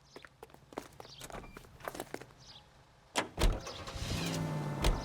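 Car door and vehicle sounds from the L.A. Noire video game: a run of footsteps, a door thud about three seconds in, then a steady engine as the car pulls away, close and moderately loud.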